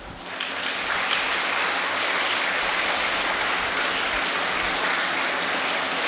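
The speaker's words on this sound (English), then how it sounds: "You all deserve a round of applause." A crowd of students and staff at a school International Women's Day celebration applauds steadily, the dense clapping close and sustained throughout without a break.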